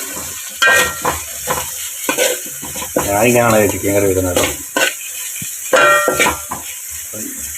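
A spatula stirs small tomatoes and onions frying in a pan for chicken curry, giving repeated scraping clatters over a steady sizzle while someone talks between the strokes.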